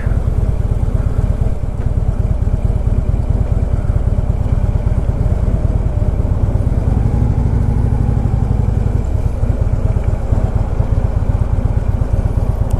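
A motorcycle engine runs steadily under way, a loud, close, rumbling drone mixed with rushing wind noise that continues without a break, with no voices.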